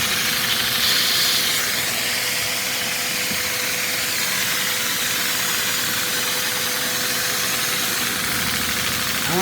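A small Lego inline two-cylinder vacuum engine with overhead valves runs steadily, giving a continuous close hissing, whirring drone with a faint mechanical tick, unbroken for the whole stretch and with no talking.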